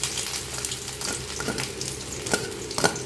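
Finely chopped ginger and garlic fry in a little oil, giving a steady, close crackling sizzle with occasional stirring scrapes throughout.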